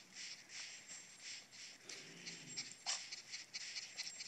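Quiet, rapid panting of a virtual dog just groomed in the Nintendogs video game, with soft breathy rhythmic pulses, light shuffling and faint game sounds throughout, no talking.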